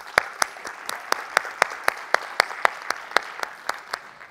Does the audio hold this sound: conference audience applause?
yes